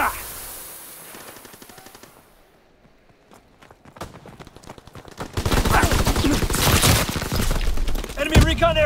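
Automatic machine gun fire from an aircraft strafing run in the World War II shooter Call of Duty WWII erupts loud and dense in the second half, after quieter scattered shots and battlefield noise, with voices underneath.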